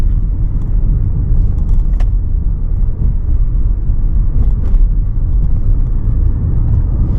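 Hyundai Ioniq 6 electric car climbing a hill, heard from inside as a steady, loud low road rumble and tyre noise with a faint whir and no talking.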